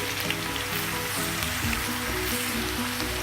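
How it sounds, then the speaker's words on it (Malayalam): Mustard seeds spluttering in hot oil in a pan before ginger and garlic go in for a spicy crab masala: a dense, steady crackling hiss like light rain, close and even, with no talk. "പാൻ ചൂടായി കടുക് പൊട്ടിയിട്ടുണ്ട്."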